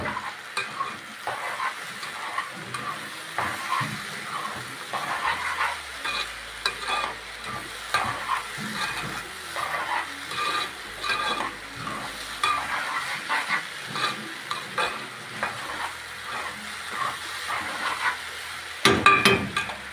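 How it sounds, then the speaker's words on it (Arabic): Soaked rice and salt are stirred in a frying pan. A close, gentle sizzle is broken by repeated scraping strokes of the spoon, ending with a brief clatter near the end. "كده هقلب بقى الرز بالملح الاول."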